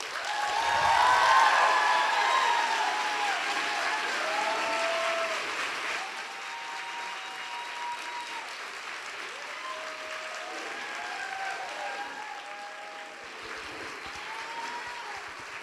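Sustained audience applause fills a large hall at an award ceremony honoring award winners, a dense, steady roar of many hands that holds for about fifteen seconds, with a faint voice at times beneath it.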